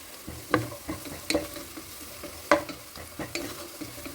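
Cashews and onions frying in oil in a pan for biryani, stirred with a utensil; a steady sizzle runs under several sharp scraping and clinking stirs, close and moderately loud, with no talking.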